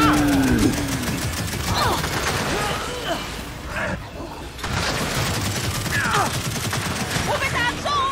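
Gunfire from a firefight in Gears 5's Hivebusters DLC, loud rapid bursts and booms crowding together with a short lull midway, mixed with voices and other game sounds.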